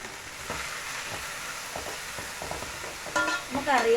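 Chaya mansa greens and onion frying in hot oil with mustard seeds, a soft continuous sizzle under light stirring scrapes, with a faint tonal whine near the end.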